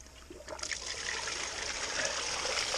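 Water pours into a gold panning bucket beside a creek, a steady splashing trickle that builds and grows louder over a few seconds.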